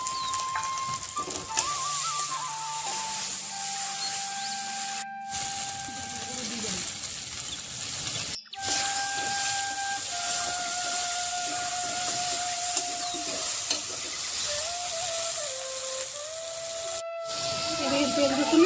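Onion and garlic fry in oil for a village-style duck curry, a continuous hissing sizzle with faint whistling tones throughout and a voice talking over it.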